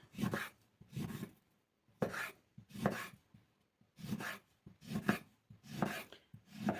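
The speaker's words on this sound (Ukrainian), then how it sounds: "тепер беру дві апельсини, ріжу також їх на квадратики" A knife chops through two oranges, peel and all, cutting them into small squares on a board for pumpkin jam; seven loud, near bursts of chopping come in a steady rhythm, with short pauses between them and no talking.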